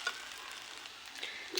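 Sabudana khichdi sautés in a pan over a high gas flame, giving a steady, faint sizzling hiss with a few light scraping ticks and no voices.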